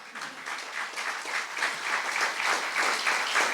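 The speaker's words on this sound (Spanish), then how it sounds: "¿Por qué no le da un aplauso al Señor?" A church congregation at a Spanish-language eschatology seminar breaks into applause, a steady wash of many hands clapping that gradually swells louder over a few seconds.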